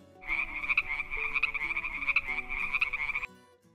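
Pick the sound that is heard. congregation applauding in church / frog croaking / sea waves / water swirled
frog croaking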